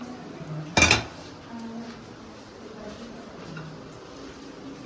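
A metal karahi and bowl handled in a home kitchen, with one loud clattering clank followed by quieter faint scrapes and low room noise.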